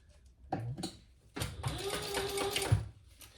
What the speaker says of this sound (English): now we're gonna top stitch on the top trim piece